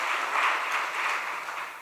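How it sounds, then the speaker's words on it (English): An audience at a devotional talk show event gives a round of applause: dense, steady clapping that fills the whole stretch and eases slightly toward the end. "Can we have another round of applause"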